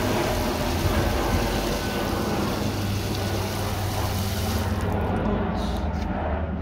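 A garden hose pours water into a small garden pond with water lilies, making a steady, loud rushing splash, while an airplane drones overhead throughout. The higher hiss drops away near the end.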